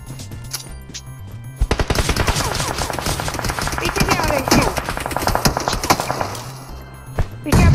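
Rapid automatic gunfire in the battle royale game BGMI, a loud sustained burst of fast shots lasting several seconds, with a few more shots near the end, heard alongside game noise.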